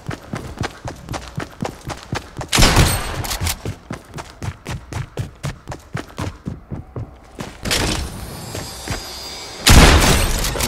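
Gunfire in Fortnite: a fast run of loud, evenly spaced shots with brief pauses and a few heavier bursts, close and dominant throughout.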